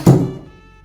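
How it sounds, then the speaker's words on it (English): A dormitory room door at a student residence shuts with one loud, close thunk that fades quickly into quiet. "if you close this door like this"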